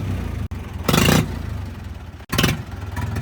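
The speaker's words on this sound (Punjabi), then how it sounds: "ਬਾਈ ਨੇ 575 ਸਟਾਰਟ ਕਰਿਆ" A 575 tractor engine runs with a low rumble and is revved in two short, loud bursts, each followed by a return to a steady idle.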